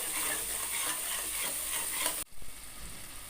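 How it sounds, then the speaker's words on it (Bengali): Spices with Kashmiri red chili powder being stir-fried for soyabean pulao, a close, steady sizzle with stirring scrapes that breaks off abruptly partway and then resumes more quietly, with no voice. "সমস্ত মশলা দিয়ে এবার ভালো করে কষিয়ে নিতে হবে"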